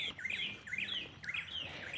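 Birds in Rwanda give repeated, close chirping calls in quick rising and falling bursts, clear and alone with no talk.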